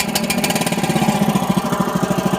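Weima WM900M-3 walk-behind tractor engine just started and running, a loud, close, steady rhythmic chugging putter with a rough throb and no voices.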